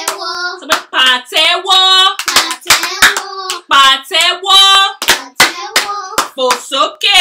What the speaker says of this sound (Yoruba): Sọ pé pàtẹ́wọ́. Pàtẹ́wọ́. Pàtẹ́wọ́. Pàtẹ́wọ́.